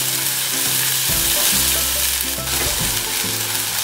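Hot green chili peppers sizzle and spit in hot oil in a pan, a steady loud frying crackle with a brief louder burst as they hit the oil.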